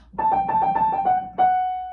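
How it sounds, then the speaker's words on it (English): Solo piano plays a rapid trill of about six quick alternating notes, then a single held note rings out and slowly fades, close and clear. "the other way that you can play it is as a longer trill that fills up more of the beat"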